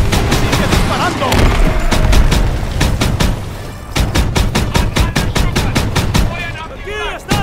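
Rapid bursts of close gunfire rattle through a Call of Duty WW2 campaign battle in Operation Cobra, with machine-gun volleys in quick rhythmic strings, brief pauses, and distant booms.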